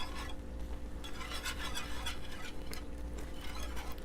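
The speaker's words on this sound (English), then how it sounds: "I want to make sure I have all that sauce mixed in really nice." A utensil stirs thick simmering green curry sauce with pulled pork in a pan, close and fairly quiet, with scraping strokes over a soft bubbling sizzle.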